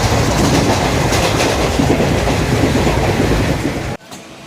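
Train running on tracks during a journey from Pazavanthangal to Trichy Junction in Tamil Nadu, a loud steady rumble with rhythmic clickety-clack of wagon wheels, cutting off abruptly near the end.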